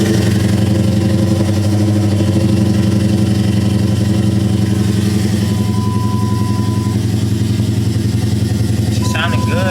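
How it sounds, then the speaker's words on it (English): A Dodge Challenger R/T engine on a cold start, a loud steady idle rumble that fills the whole stretch, with voices talking briefly over it. "we gonna go ahead and get that cold start in."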